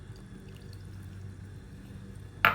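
Warm milk pours into custard powder in a bowl during custard making, a soft, faint liquid flow over low background hum that ends in a brief louder splash.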